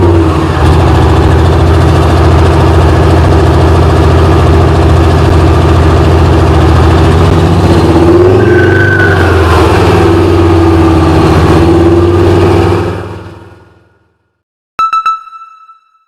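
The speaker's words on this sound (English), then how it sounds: "features the use of a diesel engine with low fuel consumption" The low-fuel-consumption diesel engine of a trike runs as a loud, steady, close drone that fades away near the end, then a brief electronic tone sounds.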